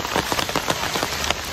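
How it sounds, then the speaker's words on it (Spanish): Steady rain pattering on a surface nearby, a dense even hiss of drops with soft irregular taps, heard alone. "se vino la lluvia"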